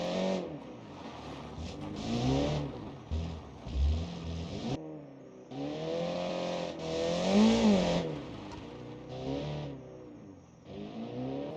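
Rally car engine in the BeamNG video game, revving hard with rising and falling pitch through gear changes on a jungle island rally stage, loud and close, with brief dips between pulls.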